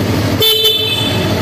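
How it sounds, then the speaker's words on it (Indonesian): A 2016 Yamaha R25 motorcycle sounds a single short, loud horn blast against a steady background hum. "kemudian klakson."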